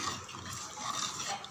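Water poured into a pot of chicken biryani, a short, soft, steady splashing gush heard close by without any talk.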